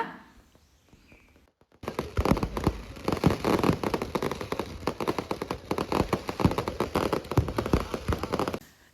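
Rapid, loud crackling bursts of Sivakasi-made fireworks or firecrackers at a festival in Malayanur go off continuously after a quiet start, dense popping with sharp bangs throughout.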